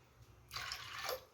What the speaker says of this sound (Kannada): ಆ ಗ್ಲಾಸ್ಲೆ 5 ಗ್ಲಾಸ್ ಆಗಷ್ಟು ನೀರು ಹಾಕೋಬೇಕ್ರಿ.